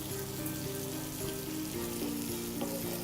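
Minced garlic, onion and pepper fry in a pan for shakshuka, giving a steady close sizzle with soft crackles and stirring scrapes and no pauses.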